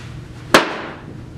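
A golf club, called a 9-9, strikes the ball during a short-iron practice swing, giving a single sharp, crisp click up close that then fades quickly.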